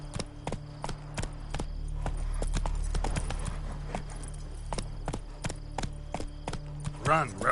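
Roach the horse gallops in The Witcher 3, hooves striking in a steady, fast clip-clop rhythm that runs throughout over a low droning background.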